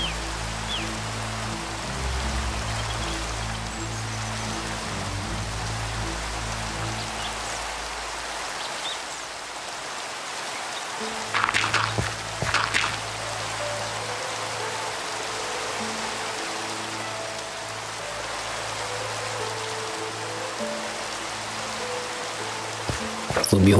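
Steady hiss of rainfall in Minecraft runs throughout, with a low humming tone underneath and a few brief clicks.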